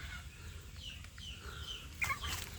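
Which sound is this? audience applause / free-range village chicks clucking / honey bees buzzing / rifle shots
free-range village chicks clucking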